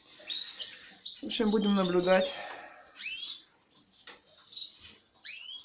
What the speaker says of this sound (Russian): Так чирикают, общаются.